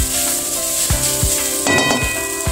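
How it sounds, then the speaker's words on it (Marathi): Masala frying in a pan over a low gas flame for a besan recipe: a steady, close sizzle with rhythmic scraping strokes of a spoon stirring the spices every half second or so. "मसाला हे खूप छान जरा फ्राय करायचा. बारीक गॅसवर करायचा मसाला बरोबर."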